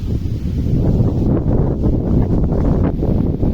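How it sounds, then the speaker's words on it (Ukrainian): Strong wind buffets the microphone in a continuous low roar with gusty swells, loud and close throughout. "Да, вітер великий."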